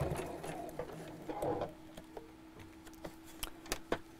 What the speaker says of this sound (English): just top stitch all around